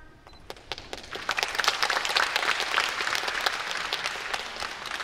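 A crowd at a yosakoi dance festival in Tsuruoka, Japan claps along steadily, many hands striking in a loose rhythm that builds in the first second and then holds at an even, lively level.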